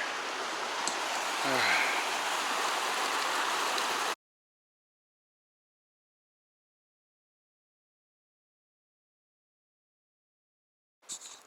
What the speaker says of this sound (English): now we found a place close to the creek, so we're refilling our water